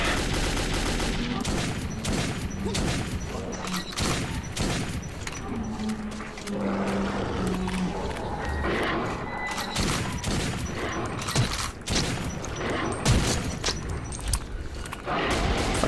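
Rapid bursts of gunfire from Metro 2033 rattle almost continuously, with heavy booms and thuds mixed into a dense, loud game soundscape, and a voice briefly heard underneath.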